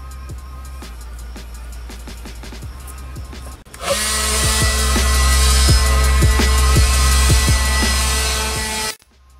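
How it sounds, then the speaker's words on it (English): A lightweight Ryobi battery leaf blower clears away lawn trimmings, starting with a low whirring hum and then switching up to a loud, steady rushing whoosh that holds for several seconds before cutting off, close by with no talking. "This lightweight blower has no problem blowing away all of these trimmings"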